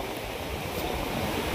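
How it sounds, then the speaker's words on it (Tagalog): Big sea waves pounding the shore during typhoon Uwan, a dense continuous roar of surf and wind, loud and close with no pauses. "Yan, laki ng alon na tadili."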